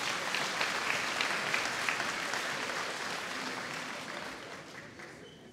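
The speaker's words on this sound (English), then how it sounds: "we give a massive round of applause to Class Meig" An audience at a school graduation ceremony gives a sustained round of applause for a graduating class, a dense even patter heard from some distance that slowly fades toward the end.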